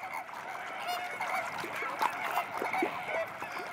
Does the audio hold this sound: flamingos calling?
yes